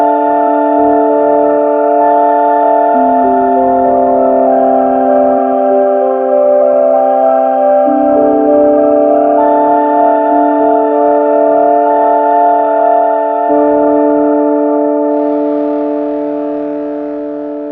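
An Omnisphere synth preset, Frosted Angels, plays with flame distortion: sustained, haunting keyboard chords with a buzzy, siren-like tone, shifting slowly between notes and fading out at the end.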